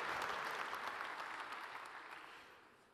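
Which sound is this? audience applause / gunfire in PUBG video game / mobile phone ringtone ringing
audience applause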